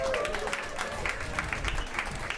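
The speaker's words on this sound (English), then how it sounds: "Round of applause again for that panel," Audience applause after a panel discussion on building resilient food systems, a steady wash of clapping from a crowd that fills the whole stretch without pause.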